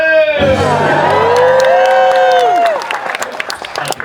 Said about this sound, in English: let's hear it for Boo!